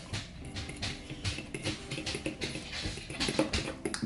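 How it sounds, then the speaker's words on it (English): A dog whimpers and makes small restless sounds in the background of a quiet indoor room, faint and intermittent, mixed with soft patters and handling noises. "you can hear the dog in the background"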